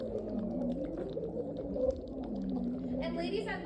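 A singer does lip bubbles in a vocal exercise, the fluttering lips carrying a wavering sung pitch that slides up and down in a steady, close, moderately quiet stream.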